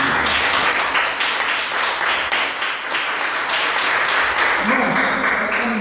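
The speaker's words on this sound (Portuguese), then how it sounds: "Dê uma salva de palmas para Deus." A church congregation clapping in praise during a Lenten communion service, steady broadband applause running throughout, loud and close, with a voice speaking over it at times.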